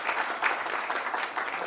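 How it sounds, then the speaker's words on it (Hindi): Audience applause for a theater group at a theater festival, a dense, lively patter of many hands clapping at a moderate distance, filling the whole moment. "जोरदार एक बार तालियां बजाइए इन सबके लिए।"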